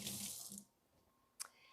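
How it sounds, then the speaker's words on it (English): Water runs from a kitchen sink tap while hands are washed, a brief hissing splash that quickly stops, followed by a quiet pause and one short splash. Faint and close, with no talking. "I'm going to wash my hands so there's no grease"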